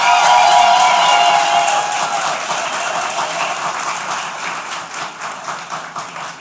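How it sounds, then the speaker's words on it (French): Audience applause fills a graduation ceremony hall, a dense wash of many hands clapping steadily, loud at first and easing slightly, with some cheering mixed in. "Alors faites vivre un peu la salle par des applaudissements."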